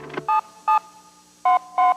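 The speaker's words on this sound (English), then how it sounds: "Take a touch-tone phone." A touch-tone phone dials, giving four short, evenly loud dual-tone beeps in two pairs with a small gap between them, clear and close, after a faint click at the start.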